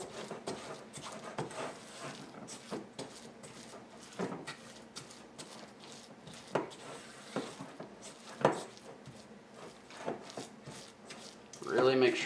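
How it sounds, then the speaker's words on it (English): A spoon works corn muffin batter in a bowl with repeated soft strokes and scrapes against the sides, close and fairly steady. A few sharper knocks stand out, and a voice talks over it. "Really make sure that you stir it good."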